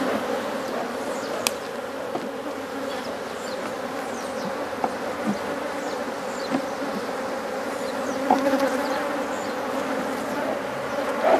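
Honey bees swarming around an opened beehive during a colony split, a dense continuous buzz close to the microphone with occasional louder individual bees flying past and faint handling clicks.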